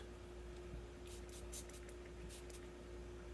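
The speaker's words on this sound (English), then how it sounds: "I'm just going to spray up the other end of this" Several short hissing bursts of Ardent Rod Kleen cleaner sprayed onto a fishing rod, over a steady low electrical hum, close and moderately quiet, with a brief pause between the first cluster and the last two.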